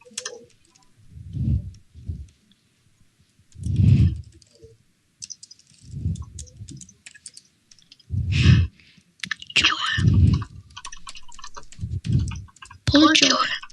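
Typing on a computer keyboard comes in quick bursts of close clicking keystrokes, alternating with someone speaking Danish in short phrases.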